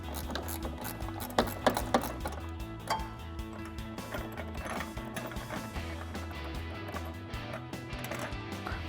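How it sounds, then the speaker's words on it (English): A 10 mm ratcheting wrench works a headlight bolt on a 2014-2015 Chevrolet Silverado 1500, giving quick, close ticking clicks in irregular bursts over a faint steady background hum. "I'm gonna use a 10 millimeter ratcheting wrench for this guy just because it's at a tough angle."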